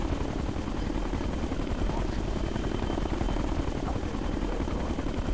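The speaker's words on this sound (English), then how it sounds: "Hostiles have air support. Chopper." A helicopter in a Tom Clancy video game gives a steady, loud, rapid rotor chop that continues without pause throughout.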